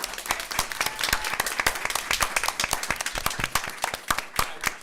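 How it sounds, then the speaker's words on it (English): Audience at a college student council debate breaks into a round of applause, with many distinct, crisp claps close by forming a lively, uneven rhythm that continues for several seconds. "Let's give them a round of applause for this."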